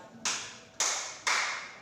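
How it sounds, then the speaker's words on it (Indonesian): Students in a physical education lesson clap their hands together three times, each a sharp, crisp clap with a short ring-out, evenly spaced about half a second apart, with no voices. "maka peserta didik melakukan tepukan 3 kali"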